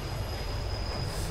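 Train rolling along in a video game, with a steady loud rumble of wheels and a continuous high squeal from the rails, heard alone without talk.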